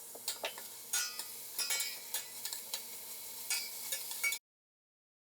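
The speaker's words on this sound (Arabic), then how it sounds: "بعد كده احط البصل واشوحه خفيف جدا، يعني لونه بس يتغير" Onions sautéing in melted butter in a pot for broccoli soup: a soft, close sizzle broken by repeated scraping stirs and light utensil clinks, stopping abruptly into silence.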